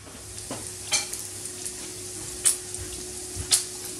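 Pancetta and crushed garlic sizzle steadily in a frying pan, close and continuous, broken by a few sharp clinks and scrapes as the pan is stirred.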